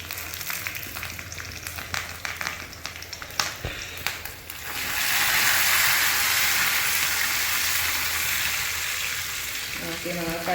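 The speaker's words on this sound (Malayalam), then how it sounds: "ചെറിയ ഉള്ളി നന്നായിട്ട് പൊരിഞ്ഞു വരുന്നുണ്ട്" Shallots and curry leaves fry in hot oil for a tempering poured over a homestyle dried shark and raw plantain curry. A few clinks and scrapes come first, then a loud, steady, close sizzle takes over.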